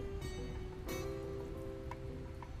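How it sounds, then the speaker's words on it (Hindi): Steady rain falls in a continuous soft hiss at a moderate level, with a few brief louder bursts of drops and no talking. "तुम यहाँ बारिश में क्यों भीग रही हो?"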